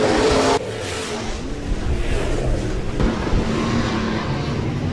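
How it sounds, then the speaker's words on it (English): B-Modified race cars roar around the Rapid Speedway track, a loud continuous engine drone from several cars close by, with a sharp drop in level as one passes early on. "Thor Anderson with the heat race win."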